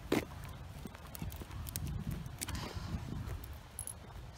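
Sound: horses walking and whinnying

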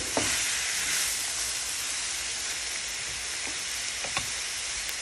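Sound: steak, mushroom and asparagus stir fry sizzling in pan

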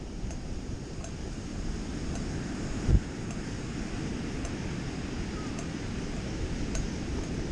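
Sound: waves and wind on a wide beach

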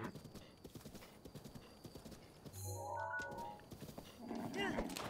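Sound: horse hooves and whinny in video game Breath of the Wild

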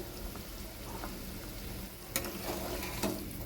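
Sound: fish curry broth boiling in the pot

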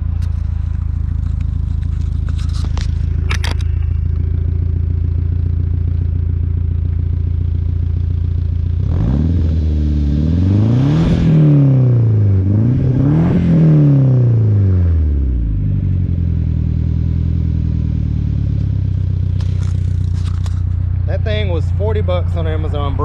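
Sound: 2G 420a turbo car engine revving through cheap Amazon muffler

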